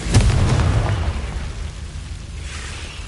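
Confringo fire spell explosion in the game Hogwarts Legacy: a single loud blast at the start, followed by a rumbling decay that fades over a few seconds, with no talking.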